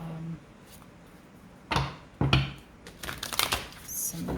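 A deck of tarot cards is shuffled in short bursts of riffling and slapping, close and fairly loud, broken by quieter pauses.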